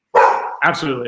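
A dog barks twice in quick succession close by indoors, loud and sharp, overlapping a man's speech during a sports talk show.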